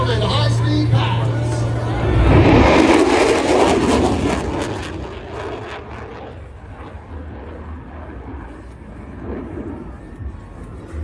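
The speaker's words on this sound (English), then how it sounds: "Ladies and gentlemen, the high-speed pass." An F-35 Lightning II jet making a high-speed pass at the Sun 'n Fun 2025 airshow roars in as a loud, rushing engine blast that peaks and then fades into a distant rumble, while an announcer talks over it.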